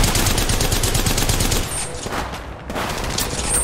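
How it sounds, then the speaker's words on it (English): Rapid automatic gunfire in Apex Legends Mobile, a dense close burst of shots, then a short lull and another burst. "Shots fired at me."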